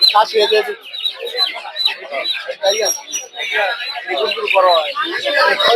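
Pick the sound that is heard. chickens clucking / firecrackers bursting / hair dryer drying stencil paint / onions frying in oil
chickens clucking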